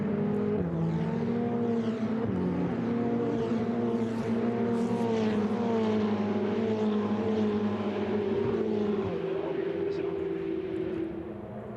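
Ferrari Challenge race cars at Imola drone on through a steady high-revving engine note with shifting harmonic pitch as the field runs downhill, sustained and fairly loud before easing slightly at the end.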